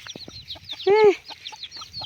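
Chickens peck at a pumpkin on a small farm. They give soft, close clucks and one louder drawn-out squawk mid-way, under faint background noise.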